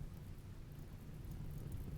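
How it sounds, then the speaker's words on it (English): Rain falling in RimWorld, a steady low rumbling wash of rainfall with faint thunder-like undertone, soft and continuous with no voices. "This is why I love rain."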